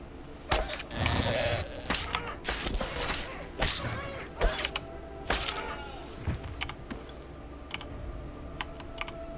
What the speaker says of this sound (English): Ooh, more goats. We need the goats.